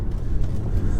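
A 2015 Audi Q5 accelerating hard on the road, heard from inside as a loud, steady low engine drone with road rumble throughout a brief burst.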